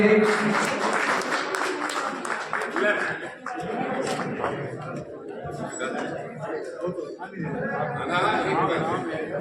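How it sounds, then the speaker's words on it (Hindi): A seated audience at a Lions Club justice honour ceremony in Sujangarh claps loudly for an advocate, a steady wash of applause lasting the whole stretch, mixed with chatter and some chuckles. "सदन में एडवोकेट एक बार जोरदार तालियों से"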